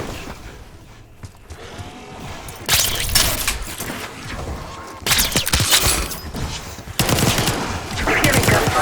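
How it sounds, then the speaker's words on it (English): Gunfire in the Call of Duty Black Ops 6 video game, bursts of rapid automatic shots arriving in loud waves with mechanical clatter between them, some sounding distant. "You hearing gunfire?"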